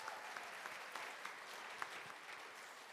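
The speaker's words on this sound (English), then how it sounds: "Let's give another round of applause for that amazing first performance." Audience applause rings out after a first dance performance at a stage debut recital, a steady wash of clapping hands with a few sharper claps standing out, sustained for several seconds without voices.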